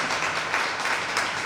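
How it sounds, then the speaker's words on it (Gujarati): An audience claps to welcome speaker Chandni Mehta at a talk, producing a short burst of steady, moderately loud applause that swells slightly in waves. "ચાંદનીબેન મહેતાનું આપણે ફરી એકવાર જોરદાર તાળીઓથી સ્વાગત કરીએ"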